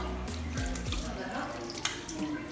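Tap water runs steadily from a faucet while hands are rinsed up to the elbows, a continuous splashing hiss with light drips, as a voice speaks over it.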